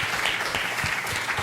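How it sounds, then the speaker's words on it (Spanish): Steady applause from a crowd, a dense patter of many hands clapping at even volume throughout. "Un aplauso, por favor."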